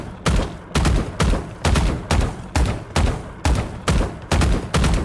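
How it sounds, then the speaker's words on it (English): Gunfire from the video game Valorant, ten sharp, loud single shots fired at a steady, evenly spaced rhythm, each cracking out alone with short gaps between. "You crouch and then shoot, so crouch,"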